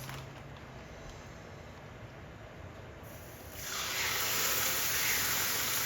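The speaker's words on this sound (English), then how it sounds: "The perfect sizzle." Raw chicken hits a hot George Foreman grill; a quiet hiss swells into a loud, steady, close sizzle about halfway through and holds.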